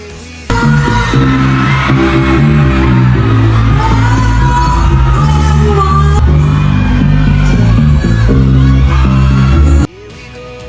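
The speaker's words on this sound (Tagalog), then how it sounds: "sa pag-akyat ni Bia Alonso sa stage, sigawan ang mga tao na naroon" A loud crowd shouts and cheers continuously as actress Bea Alonzo steps onto the stage at the Capiztahan Festival in Roxas, with music playing underneath, before the noise cuts off abruptly.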